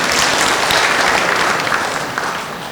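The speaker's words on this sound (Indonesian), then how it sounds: "boleh tepuk tangan buat kita semua" Large audience applauding at a national epidemiology scientific meeting in Indonesia: dense, steady clapping that fills the room, loud throughout and easing off slightly toward the end.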